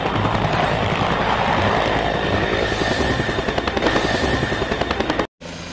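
A toy helicopter runs with a loud, continuous rattling whir that chatters rapidly for several seconds before cutting off abruptly.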